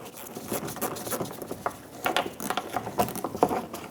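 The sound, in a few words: screwdriver removing Phillips head screw from splash guard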